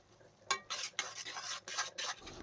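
Spoon stirring chili powder and salt into a tomato egg curry in a pan, a series of close scraping, rubbing strokes with a soft sizzle beneath, no one talking.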